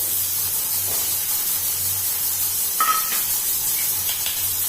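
Chopped onion hisses in a hot pan while cooking chana masala, a steady spray-like sizzle running throughout at moderate level, with a few faint clinks and a low hum beneath.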